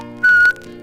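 A single clear, steady whistled note held for about a quarter second over soft folk music accompaniment, loud and close.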